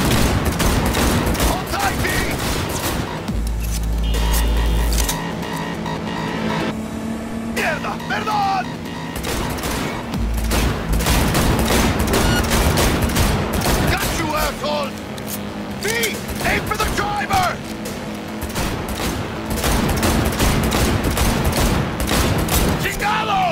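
Gunfire erupts during a high-speed car chase in Cyberpunk 2077, with dense, continuous shots layered over roaring vehicle engines and shouting voices throughout, loud and chaotic.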